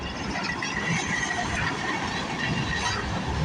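A CN freight train rumbles steadily past at close range at Bronte Street in Milton, Ontario, a dense, continuous roar of wheels and cars with faint metallic squeals and no voices.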